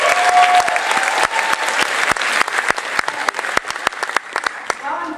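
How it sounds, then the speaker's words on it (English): Audience applause fills a high school talent show venue, a dense wash of many hands clapping with sharp individual claps standing out, loud and sustained, fading slightly toward the end. "I think we should give them a round of applause."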